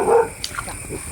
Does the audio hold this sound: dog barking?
yes